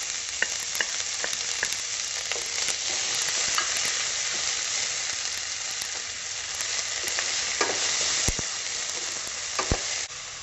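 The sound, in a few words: chopped onions frying in sunflower oil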